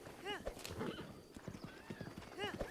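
A horse in the video game Breath of the Wild clip-clops along with quick hoof taps and gives two short, bright whinnies, one near the start and one near the end, while a voice talks over it.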